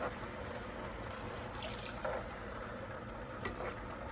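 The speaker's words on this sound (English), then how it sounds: "I'm going to go ahead on now and add some water." Water poured into a cooking pan of smothered steak to thin the gravy, a steady close splashing flow lasting the whole few seconds with slight surges, no talking.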